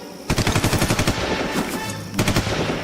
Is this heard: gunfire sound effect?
yes